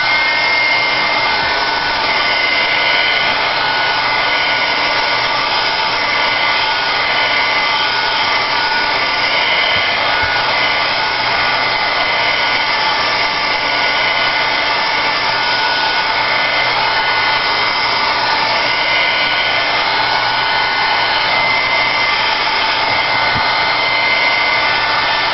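A hair dryer blows in a steady, close, unbroken whoosh while drying a paint layer on a Thanksgiving plaque, holding an even tone throughout with no voices.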